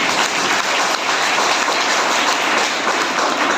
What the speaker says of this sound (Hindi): इसलिए अपने लिए ताली बजाओ